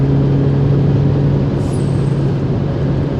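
A Renault Megane III RS hot hatch drives on, its engine a steady loud drone with road noise from inside the car, no voices over it.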